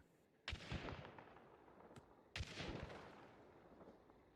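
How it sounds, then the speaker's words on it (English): A shotgun in a video game fires firework-like rounds: two sharp blasts about two seconds apart, each trailing into a crackling, sparkling burst that fades slowly, loud and close with no talking. "It's almost like shooting fireworks from your shotgun"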